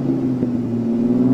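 Lamborghini Urus engine rumbling with a steady low tone and a slight swell, heard briefly at moderate distance with no talk over it.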